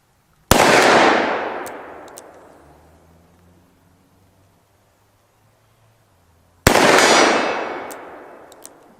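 Two loud, close gunshots from a 2020 Colt Python revolver with a 4.25-inch barrel, fired outdoors at targets, each a sharp crack followed by a long rolling echo that fades over several seconds.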